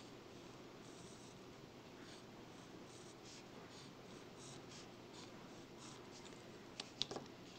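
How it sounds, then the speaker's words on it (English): A pencil scratches marks on paper, a quiet series of short repeated strokes in an even rhythm, followed by a couple of sharper taps near the end. "I'll draw those in pencil and we'll just make some marks"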